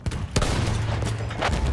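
Rapid gunfire crackles in the first-person shooter Battlefield 1, a dense fusillade of sharp shots and bursts over constant battlefield rumble.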